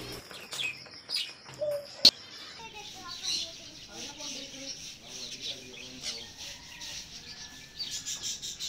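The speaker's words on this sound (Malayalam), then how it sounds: "കിളികളുടെ സൗണ്ട് കാരണം ഞാൻ പറയുന്നത് നിങ്ങൾക്ക് കേൾക്കുന്നുണ്ടോയെന്ന് അറിയില്ല" Conures and other birds chirp and call in a busy aviary, a dense stream of shrill tweets and squawks that keeps going while a person talks quietly underneath.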